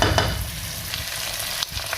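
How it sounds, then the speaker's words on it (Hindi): Mutton with ground green chilies is stir-fried for a pulao and gives a loud, close, continuous sizzle, with a couple of brief scraping stirs cutting through. "अभी 1 मिनट और इसको मैं भूनूंगा"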